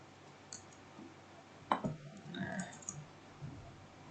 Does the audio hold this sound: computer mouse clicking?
yes